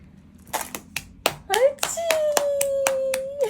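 Several sharp hand claps in an irregular series at a Christmas gathering with a ten-month-old baby, mixed with a voice and a sustained sung or cooed tone partway through.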